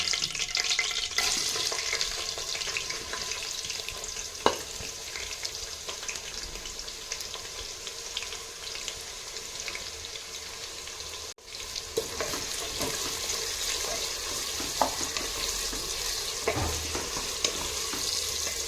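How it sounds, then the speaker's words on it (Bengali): Medium sliced onions frying in oil for mutton biryani, a continuous close sizzle with occasional stirring clatter, steady and loud, no talk. "এক কিলো মাটনের জন্য আমি 4 পিস পেঁয়াজ নিয়েছি, মিডিয়াম সাইজ স্লাইস করে কেটে রাখা, এটা আমি অ্যাড করে দিচ্ছি।"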